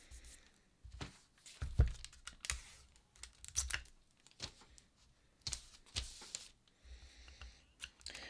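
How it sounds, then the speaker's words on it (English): Paper sewing pattern for a cowl neckline being taped down, with a series of soft close taps, rustles and crinkles in irregular bursts, quiet overall, no talking. "now I'm going to tape that down."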